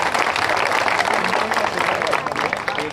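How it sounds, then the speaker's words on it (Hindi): Audience applause for Sunil Babu at a community gathering in Jalgaon where flood victims receive aid: a steady, dense wash of clapping from a crowd that holds at an even loudness throughout. "सुनील बाबू के लिए जोरदार तालियां बजाओ।"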